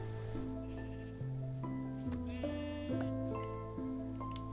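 Sheep bleating in the Minecraft video game, several layered, tonal bleats in quick succession over a steady game background, with no talk.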